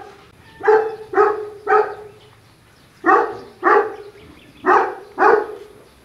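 A dog barks in short bursts, three quick barks, a pause, then two pairs more, moderately close with quiet background between.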